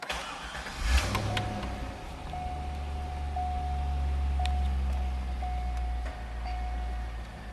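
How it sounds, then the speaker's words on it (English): A 2000 Chevrolet Corvette coupe engine cranks and fires up, then settles into a steady, deep idle with a low rumble and a faint high whine, heard close and without talk. "I'm actually going to jump in and actually start the car."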